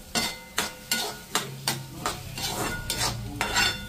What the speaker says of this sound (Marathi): आता एवढं तांदूळ भाजून घेते मी.